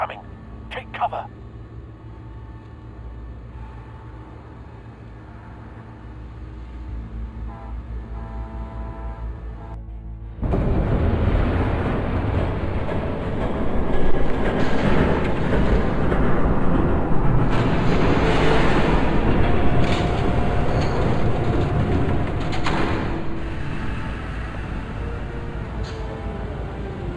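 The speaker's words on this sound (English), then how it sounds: "There's a train coming." A train rushes past in Batman: The Telltale Series, starting as a low, quiet rumble and then jumping to a loud, steady roar that fills the rest of the scene.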